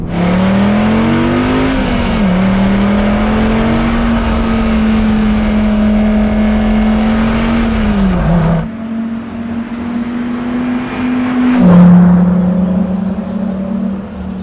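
A Dodge Viper ACR Voodoo Edition engine revs hard and holds a loud, steady drone, drops off abruptly, then surges again with a sharp blip before settling into a lower rumble, close and alone.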